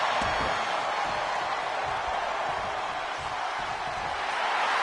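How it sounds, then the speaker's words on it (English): Dense, roaring crowd noise from a WWE 2K23 wrestling video game fills the clip evenly, a steady wash of cheering with no individual voices standing out. "The sound of this crowd is deafening"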